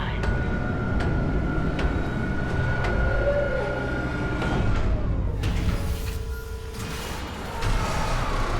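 A replacement tram car arrives in Dead Space Remake, a heavy rumbling rail vehicle with a sustained mechanical whine that drops in pitch as it slows, followed by clanks and a hissing release as it settles.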